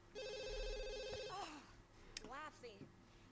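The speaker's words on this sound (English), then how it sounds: "we got a phone call here" A telephone rings in The Sims 2 with a steady electronic trill that stops after about a second; a character then babbles briefly in the game's gibberish voice.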